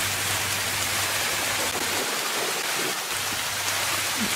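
Steady rain falls continuously as a dense, even hiss with a low hum underneath, with no voices present.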